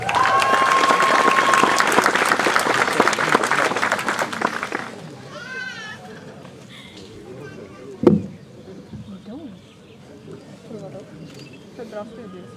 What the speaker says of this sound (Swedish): En applåd till